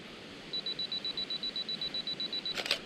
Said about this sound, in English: I forgot to turn off my 2-second timer.